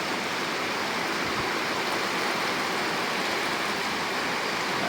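Heavy morning rain pours steadily, a dense, even hiss of falling water that fills the scene without pause for the full stretch, loud and close, with no voices.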